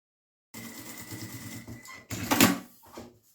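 A sewing machine stitches along the edge of a small fabric bag. Its close, rapid mechanical clatter starts after a short silence and runs in two brief bursts.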